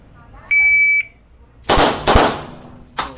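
A shooting timer gives one steady half-second electronic beep, then loud gunshots ring out close by at a range session with a Taurus TH40 pistol, with more shots following.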